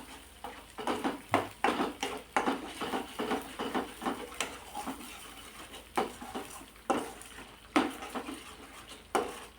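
Spiced thorny brinjal curry being sautéed in a pan, with a spatula scraping and clattering against the metal in repeated uneven strokes. The sound is fairly close, with no talking.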